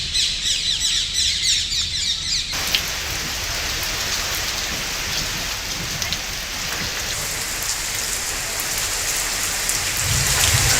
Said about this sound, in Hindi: लगातार हो रही बारिश से कलेक्टर ने बाढ़ नियंत्रण टीम समेत अधिकारियों को अलर्ट कर दिया है।